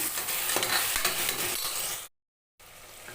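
Tomatoes sauté in a pan for crab biryani, giving a loud, close, continuous sizzle with stirring scrapes that cuts to a brief silence before resuming.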